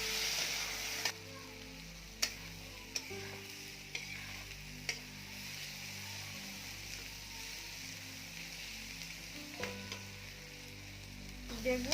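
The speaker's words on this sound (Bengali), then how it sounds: "এরপরে আমরা টমেটোটা দিয়ে দেবো। এটাকে ফ্রাই করতে থাকবো।" Egg and tomato frying together in a pan, a steady sizzle with repeated scraping stirs and a few sharp utensil knocks against the pan, continuous and close.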